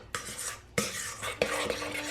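A sourdough mixture of flour and water being stirred in a bowl, with three or four distinct scraping strokes and knocks of the utensil against the sides, close and fairly quiet.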